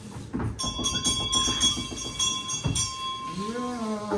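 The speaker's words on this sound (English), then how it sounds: "Get up at once and ring hard on that bell pull while I hammer." A bell pull rings steadily while a door is hammered in a quick run of knocks, in a stage performance of The Wind in the Willows at the Rondo Theatre, Bath; the sound is fairly close, and a voice speaks near the end.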